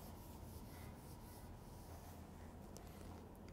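Steady rubbing on a classroom board as writing is erased during an engineering lecture, a continuous soft dry scrubbing heard close and quiet, with no talk.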